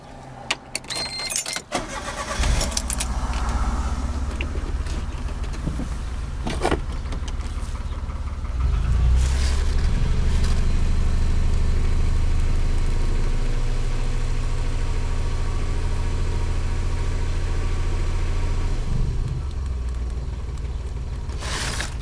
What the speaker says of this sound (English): I'm just going to start it and let it run.